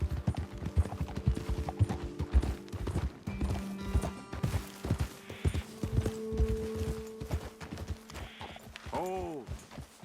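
Steady clip-clop of horse hooves walking on hard ground in the video game Red Dead Redemption 2, with sustained ambient tones underneath and a brief whinny near the end.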